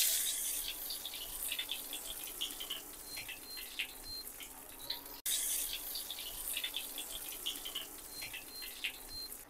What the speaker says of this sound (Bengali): এখন আমরা এটা তেলে ফ্রাই করে নেব। এখন আমি ডিম চপগুলো দিয়ে দিচ্ছি।